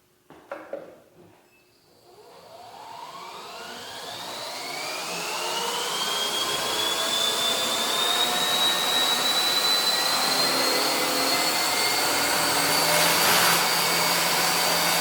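A bench grinder motor spins up from rest to full speed, its whine climbing steadily in pitch and loudness over several seconds and then holding a loud, steady roar, with a few brief knocks at the very start.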